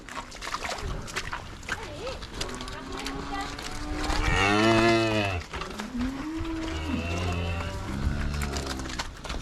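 Cattle kept for sale on a livestock farm moo in long, loud, close calls, one after another, over a busy background of farm noise and some talking.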